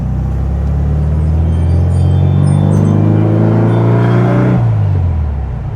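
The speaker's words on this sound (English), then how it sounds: "We're just getting some heat into the engine currently." A 1972 VW Beetle with a dual-carb engine running while driving on the road, a loud, close rumble that revs up steadily, then drops off sharply near the end.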